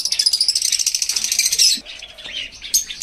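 Young red-eyed Lutino Fischer's lovebird chicks in an aviary give rapid, close, high-pitched chirps for the first half, then quieter scattered calls and faint rustling follow.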